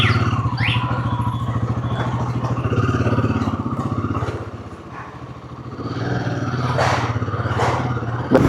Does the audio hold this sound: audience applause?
no